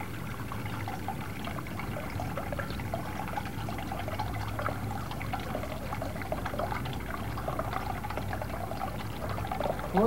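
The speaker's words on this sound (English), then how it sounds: "When the water is slowly released from the bucket, this device lets the coil proportionately move slowly upward." Water slowly released from a bucket in an early electronic measuring device, heard as a steady, continuous pouring trickle that holds evenly throughout at moderate level.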